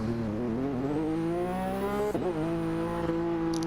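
Racing game car pulling out of the pits at Interlagos on super soft tyres, engine loud and close with rising harmonic revs through gear changes, a brief dip and shift midway, then climbing again.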